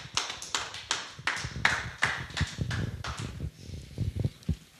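Congregation applauding the Lord during a church service, a run of irregular sharp claps, dense at first and thinning toward the end, close and moderately loud, with no talk.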